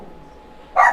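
A single sharp dog bark lands close and loud near the end, after a moment of near-quiet room tone.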